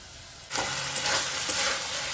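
Chopped onion hits a hot pan of cooking meat and bursts into a loud, continuous sizzle that holds steady after a quieter start.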